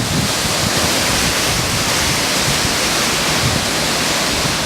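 Hurricane Irene wind roaring past a back deck in Rhode Island, a loud, steady rush of broadband noise with constant gust buffeting on the microphone.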